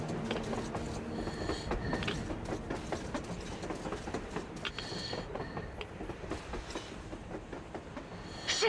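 A train rumbles past in the post-apocalyptic shooter Metro Exodus, steady broadband rolling noise with faint rail clatter holding at a constant level throughout, no talk.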